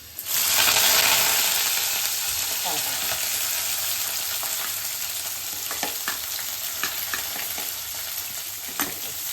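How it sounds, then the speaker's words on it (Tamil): Sliced onion and curry leaves dropped into hot oil, a loud burst of sizzling that settles into steady frying with scattered crackles and light scraping clicks, no voices. "இப்போ வெங்காயமும் கருவேப்பிலையும் சேர்த்து போட்டுக்கலாம்."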